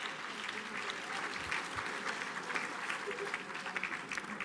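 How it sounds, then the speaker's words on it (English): Sustained applause from an audience at an Indian American cultural center gala at a banquet hall, a dense, steady wash of clapping filling the room, continuous and fairly loud throughout. "So give a round of applause for yourself for all the well-dressed men and women here"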